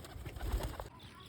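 Domestic pigeons coo softly at home in a short, faint low burble, with a light rustle at the end and no talking.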